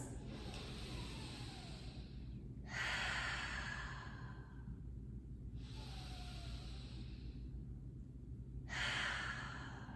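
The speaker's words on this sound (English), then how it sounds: "Take 2 deep breaths." Slow, deep breathing during a vinyasa yoga pose on a mat, with two long audible inhale-exhale cycles, each a soft airy rush, close and clear over a low steady background hum.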